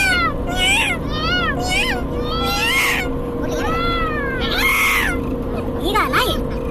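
Someone imitates a cat meowing during a playful mimicry routine with friends, producing a string of rising, whiny meows of varying length over about seven seconds, close and loud.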